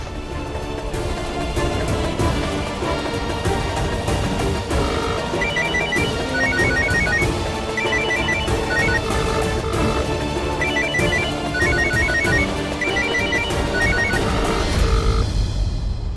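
A phone rings out on an outgoing call to a mother, a repeating electronic ringback melody sounding steadily in short patterned phrases for about fifteen seconds over a busy background of other sound.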